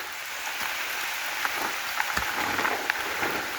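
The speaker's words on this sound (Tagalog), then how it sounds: "Grabe, ang lakas ng ulan." Rain pours steadily, a dense hiss with scattered louder drops and taps landing on a nearby surface.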